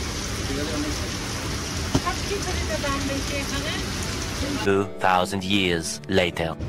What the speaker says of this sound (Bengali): এখন প্রচণ্ড বৃষ্টি হচ্ছে